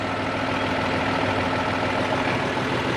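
A John Deere tractor engine runs at a steady idle outdoors, a continuous close rumbling drone with a low hum and no variation over a few seconds.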